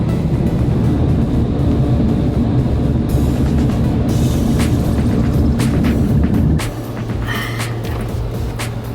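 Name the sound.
car wash air dryer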